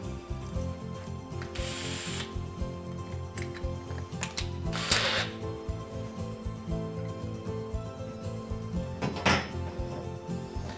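A driver fitted with a Torx bit sends screws into rack shelving track on a wall, ratcheting and whirring in short bursts against a steady mechanical backdrop, close and moderately loud.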